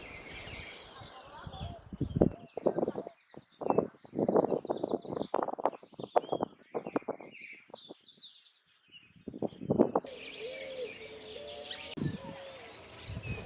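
Calls of a sayaca tanager over the Paraná delta: bursts of short chirps and thin whistled notes come in clusters, with pauses between, and another call pattern continues toward the end.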